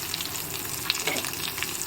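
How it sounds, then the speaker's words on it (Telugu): Onion, ginger and green chillies sizzle and crackle steadily in a hot pan on a home stove, with light stirring scrapes and no talk. "ఎర్రగడ్డ వేగే లోపల ఇది కూడా వేగుతుంది కదా, పచ్చి వాసన లేకుండా ఉంటుంది"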